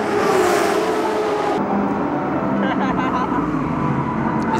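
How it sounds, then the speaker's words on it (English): A GT race car's engine roars loud and steady as it climbs Fuji Hill toward the finish at Fuji, heard under race commentary, with a faint whine of passing traffic toward the end. "the last run back up the famous Fuji Hill to the finish, Sauer had to give way"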